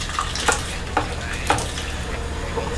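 A pot of Saint Lucian bouillon stew bubbles and simmers with a constant close hiss and bubbling, broken by a few soft stirring knocks against the side of the pot.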